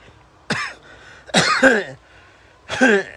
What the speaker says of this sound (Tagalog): Inuubo kong bigla.